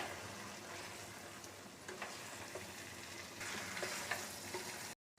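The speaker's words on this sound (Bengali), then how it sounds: "এবার অ্যাড করে দেব মাছের মাথা, ভালো করে মিশিয়ে নেব।" Fish head being stirred into cabbage curry frying in a pan, a soft continuous sizzle with scraping stirs and a brighter burst of frying near the end before cutting to silence.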